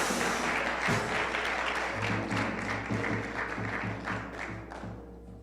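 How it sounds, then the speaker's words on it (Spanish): A church congregation claps together, a dense wash of applause with some rhythmic unison clapping partway through, gradually fading, with no voices standing out. "Aplaudamos, démosle un aplauso al Señor."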